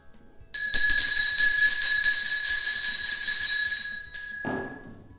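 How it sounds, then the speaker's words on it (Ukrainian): An electric school bell rings for the first day of the school year, a loud, steady metallic ringing that runs continuously for about three and a half seconds, then stops abruptly, leaving a brief noisy tail. "Перший дзвоник залунай."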